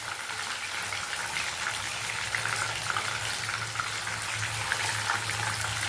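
Chicken for a Hariyana chicken dish sizzles in a pan of oil, giving a constant hissing crackle with a low hum beneath it, heard alone and up close.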